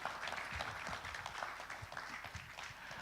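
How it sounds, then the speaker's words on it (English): An audience applauds at a programme closing event, with a steady wash of clapping from many hands heard at moderate distance. "let's give him another one round of applause"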